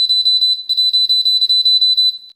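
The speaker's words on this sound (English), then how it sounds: "you hear a loud buzzing from this buzzer" A loud electronic buzzer driven by a PWM signal and its complementary output, beeping a steady high tone in rapid short pulses with one brief gap, like Morse code, close and alone.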